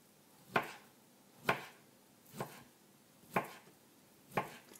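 A knife chops vegetables steadily on a cutting board, five evenly spaced thuds about one second apart, close and clear in a quiet room.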